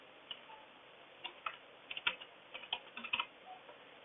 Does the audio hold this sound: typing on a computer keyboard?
yes